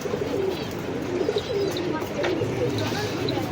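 Breeder pigeons coo softly in a loft, with repeated low throaty coos over a steady background hum and some faint chirps.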